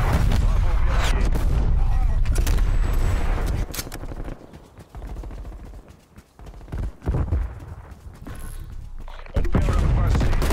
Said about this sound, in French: Artillerie ennemie en approche.